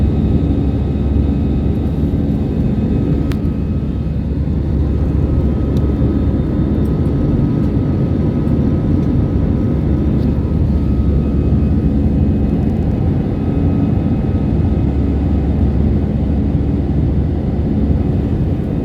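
Steady, loud airplane engine drone fills the cabin throughout a short flight from Pakse to Vientiane, Laos, a constant roar with no talking.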